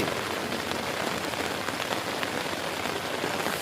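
Rain falling steadily on a surface at an outdoor sports court, a dense, even hiss of drops close by with no talk.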